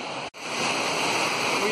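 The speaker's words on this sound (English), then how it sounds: "We went to a waterfall." A waterfall inside Carter Caves roars as a loud, steady broadband rush close by, briefly cut at one moment, then continuing unbroken with no voices heard.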